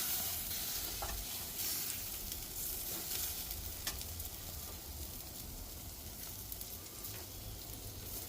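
Quince kebab of minced meat cooking in a pan, sizzling and frying with a steady, dense crackle throughout, occasional stirring scrapes over the continuous hiss, close and fairly loud with no talking.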